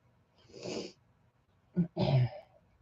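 A puppy snorts close by: one soft breathy snuffle, then a short pause and a quick double snort, nothing else around it.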